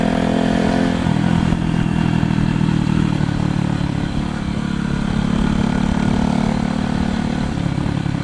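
A loud motorcycle engine rumbles steadily at close range, its throaty drone holding nearly constant throughout.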